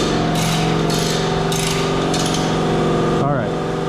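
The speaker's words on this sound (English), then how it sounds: "Convenient that it turns on just now. So let me pull the compressor over here." An air compressor runs steadily in a garage during work on a Z31 300ZX, a loud continuous motor drone with rhythmic mechanical pulsing throughout and a brief metallic clunk near the end.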